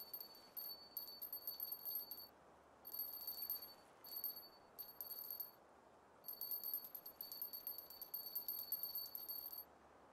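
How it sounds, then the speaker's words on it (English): Bite bell on a fishing rod in the game Russian Fishing 4, jingling in repeated bursts of bright metallic ringing with short pauses between them, alone over a quiet background hiss. "When it jingles for too long, I feel like the fish is gone."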